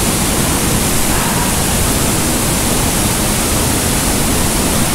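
Mountain waterfall with icicles forming in cold weather, a dense, steady rushing roar of falling water heard close and loud, unbroken for the whole stretch.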